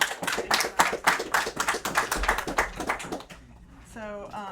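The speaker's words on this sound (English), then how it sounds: "Give them a round of applause." Brief round of audience applause at a paranormal stories event, fairly close claps with scattered taps that fade out after about three seconds, followed by a voice starting to speak.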